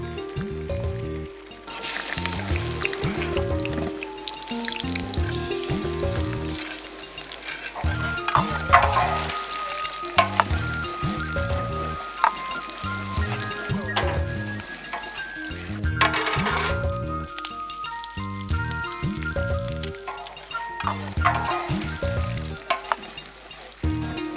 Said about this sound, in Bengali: বাগার দেওয়ার আয়োজন চলছে ডেকচির দম দেয়া কয়লার উপর কড়াই বসিয়ে